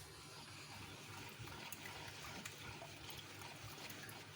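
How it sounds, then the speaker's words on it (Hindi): Water is poured into a bowl of sweetened spice mixture for pani puri, a soft continuous splashing and trickling, faint and close in a quiet kitchen. "ये इसमें पानी डाल रही हूँ मैं 3 गिलास।"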